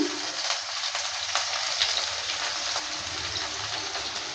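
Chopped onion going into hot oil that has already fried dried red chillies and nigella seeds, for a gima greens fry: a steady, close crackling sizzle with scattered pops, even throughout with no talking.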